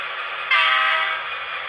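An HO scale Broadway Limited Imports model locomotive with Paragon 2 sound sounds a bright, steady electronic train horn for about a second, rising abruptly and fading slightly, alone and fairly loud.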